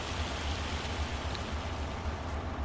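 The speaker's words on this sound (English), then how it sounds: "it's supposed to start back raining" Rain falls in Farming Simulator 25 as a steady, dense hiss of drops with a low patter underneath, constant and fairly close, no voices.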